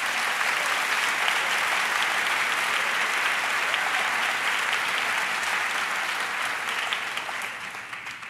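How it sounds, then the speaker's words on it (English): Sustained audience applause at a school district convocation day event, a dense wash of many hands clapping steadily, fading slightly toward the end. "So let's give them another round of applause."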